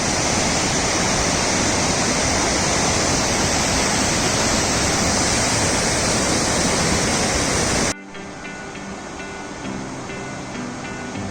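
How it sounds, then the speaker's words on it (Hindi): River water at the confluence of the Gori Ganga and Kali rivers rushes in a loud, continuous roar, then drops abruptly to a quieter, softer flow near the end. "वो दूर नदी जो आगे कितनी शांत बह रही है।"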